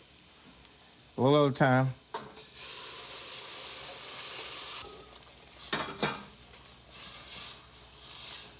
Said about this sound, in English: Now we'll add the stock from the crawfish.